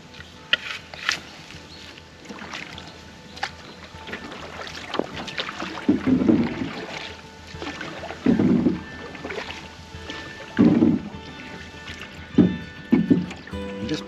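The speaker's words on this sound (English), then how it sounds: "Anyway, let's go for a paddle." A canoe is paddled along a river, with soft, regularly spaced paddle strokes and water splashes rising above a breezy outdoor background with some wind noise.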